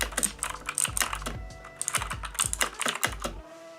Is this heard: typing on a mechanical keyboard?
yes